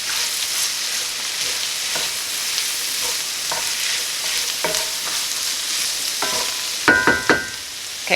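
Apple cranberry sausage stuffing ingredients sizzle and fry steadily in a pan, a constant close crackle with occasional stirring scrapes and a few sharper clinks near the end; no one speaks.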